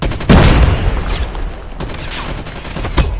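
Gunfire and a grenade burst in the Call of Duty Mobile video game, loud and near: a heavy boom-like onset followed by dense, rattling shots and scattered cracks.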